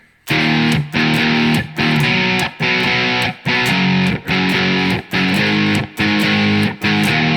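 Distorted electric guitar strums in a steady repeating pattern, loud and close, with eight or nine chord hits separated by brief gaps, playing a part from a song.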